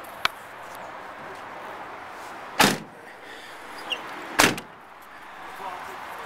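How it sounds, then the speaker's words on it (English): Two solid slams of a pickup truck door being shut, each a sharp loud thud a couple of seconds apart, with a faint click between them and low outdoor background hum. "Let me shut the door here."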